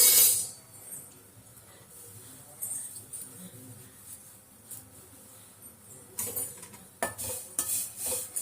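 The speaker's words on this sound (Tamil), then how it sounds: "இப்போ நம்ம இதை நல்லா ட்ரையாக வறுக்கணும்" Pirandai dry roasted in a pan with tamarind and asafoetida, heard as faint scraping and clinking of a spatula against the pan, growing louder and busier toward the end.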